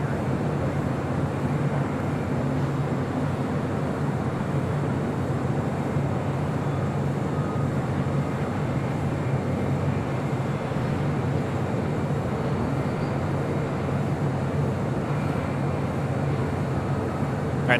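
An airliner taking off from runway 25 right at LAX gives a continuous, even engine rumble and roar that stays steady for the whole stretch.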